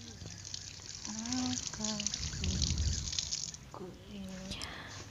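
Freshly picked green leaves washed by hand under running tap water, a steady trickle and splash heard close up while someone talks softly over it.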